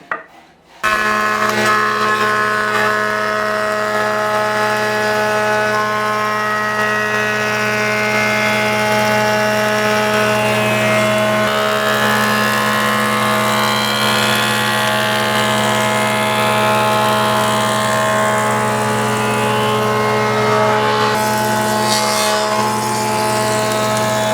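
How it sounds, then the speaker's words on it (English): A wood planer runs steadily on a rough-sawn, slightly oversized wooden block in a toy block workshop, a loud continuous machine whine with strong tonal hum that starts abruptly and holds for the whole stretch. "So the next operation, we go to the planer."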